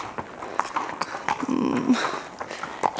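Horse hooves clopping on the way out of a stable, a few irregular close steps with some rustling and a faint breathy sound, no speech.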